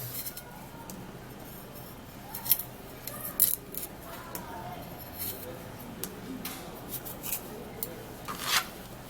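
Fresh ginger root is peeled with quiet, scratchy scraping strokes that come in irregular bursts, a few sharper scrapes standing out over a soft, steady background hiss.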